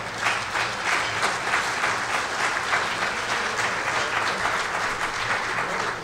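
Steady, dense clapping from a crowd at a USS Orleck DD 886 ship reunion opening night in San Diego, continuous and even throughout with no voices over it.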